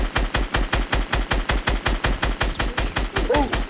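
Video game gunfire rattles off in a long, steady stream of loud, evenly spaced automatic shots that continues throughout, with a brief faint voice near the end.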